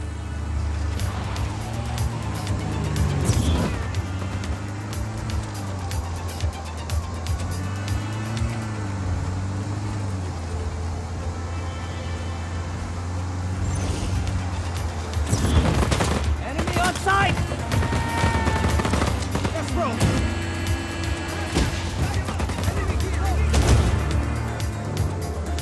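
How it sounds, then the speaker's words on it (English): Bursts of automatic gunfire and rattling impacts from Just Cause 4 as a van is wrecked, loud shots clustering in the second half over a steady engine drone, with scattered crashes and game music underneath. "Now to wreck this van,"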